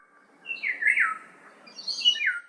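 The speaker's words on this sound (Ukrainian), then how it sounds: "просто послухайте ці звуки птиць" Bright, high-pitched video game bird chirps and twittering calls in realistic Minecraft, in two short bursts, clear against a quiet background.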